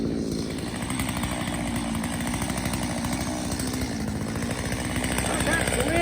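Chainsaw bucking up a fallen dead ash tree on a lawn, running loud and close with a continuous buzzing drone and slight pitch shifts as it cuts.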